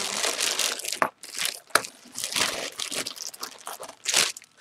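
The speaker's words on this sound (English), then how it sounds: "Sorry for the crinkling." Paper or plastic crinkles loudly and close by as a tiki bar mini album is handled, in irregular bursts of crumpling with brief pauses between.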